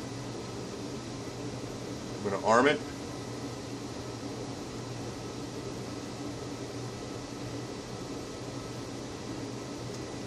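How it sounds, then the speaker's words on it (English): A room heater runs with a steady, faint broadband hum and whoosh behind a voice speaking briefly, while a short electronic beep sounds once early on. "Sorry about the noise too, I got my heater on."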